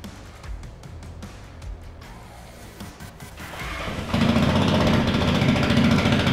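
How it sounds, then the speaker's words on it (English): A voice-activated, Filipino-made Lycan motorcycle engine starts up partway through and then runs with a loud, steady, close rumble after a stretch of quieter background noise. "Engine on."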